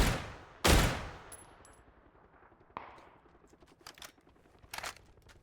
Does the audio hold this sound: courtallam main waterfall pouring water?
no